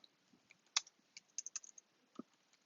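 Typing on a computer keyboard: scattered, quiet key clicks in uneven bursts, with one sharper tap standing out, close by in an otherwise silent room.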